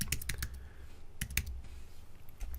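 Rapid bursts of key clicks from typing on a computer keyboard, close and fairly soft, with a brief pause mid-run before a few more keystrokes; no talking.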